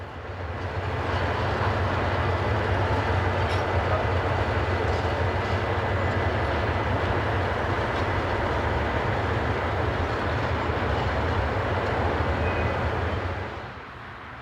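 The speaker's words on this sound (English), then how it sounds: "Shortlines operated SL1001 is seen here shunting container flats." Shortlines locomotive SL1001 shunts container flats in a steady, loud, continuous rumble of engine and rolling stock that holds for most of the span and fades at the end, with no voices.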